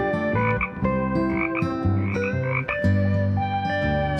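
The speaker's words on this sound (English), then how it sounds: "Common toad." A common toad croaks in a continuous, loud, close run of buzzy, harmonic calls that pulse in short repeated bursts, with no other sound.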